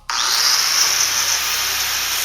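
A power tool gouges rusty metal on the windshield gutter of a 1971 Chevelle, starting abruptly and then running as a loud, steady, high-pitched grinding whine close up for a couple of seconds.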